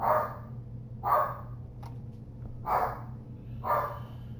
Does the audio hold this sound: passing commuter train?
no